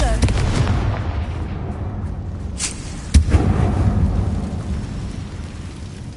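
A Confringo explosion spell in Hogwarts Legacy lands as a deep, rumbling blast with a sharp crack near the middle, set against a booming, thunder-like game backdrop.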